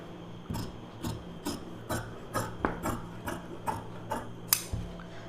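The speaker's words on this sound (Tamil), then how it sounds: "இப்போ நம்ம ஸ்லீவ் கட் பண்ணிக்கலாம்." Scissors snip through blouse sleeve fabric in a steady run of about ten crisp, close cuts, each a short rasping crunch spaced roughly half a second apart, with no voices.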